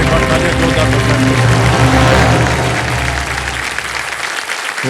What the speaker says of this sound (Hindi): एक बार तालियां जोरदार